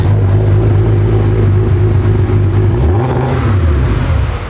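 A deep Ford Barra inline-six engine in a Mustang rumbles at a choppy idle, then revs up briefly and drops back, with a rough, throaty tone throughout.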